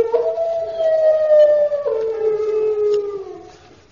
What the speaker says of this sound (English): That's no ordinary dog. It's a hound.